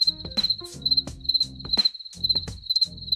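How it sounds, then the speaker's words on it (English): Crickets chirp in a steady high-pitched trill, pulsing in quick regular bursts, with faint musical tones underneath. "Crickets."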